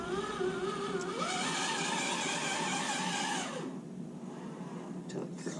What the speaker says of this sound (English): I'm going to go full lock and turn the truck 180 degrees